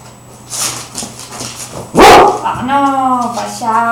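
A pet dog barks on command during a trick session, one sharp loud bark cutting through an owner's quiet praise, followed by whimpering yips with a person talking throughout.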